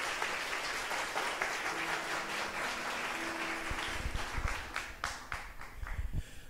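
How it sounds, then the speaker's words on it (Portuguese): A church congregation applauds together after a Bible reading, a steady wash of many hands clapping at moderate loudness, with a faint sustained tone underneath and a few sharper claps standing out toward the end. "Vamos aplaudir a palavra de Deus."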